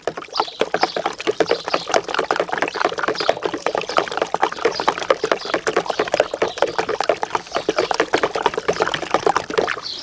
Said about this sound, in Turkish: Yine karıştırıyorum iyice.